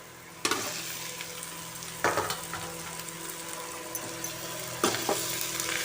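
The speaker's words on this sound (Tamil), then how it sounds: "இதை நல்லா கொஞ்சம் ஒரு 5 நிமிஷம் நம்ம ஹை ஃப்ளேமில் வச்சு நல்லா வதங்க விடலாம்" Ivy gourd with sautéed onion sizzles steadily in a pan on high flame, broken by three sharp spoon strokes against the pan.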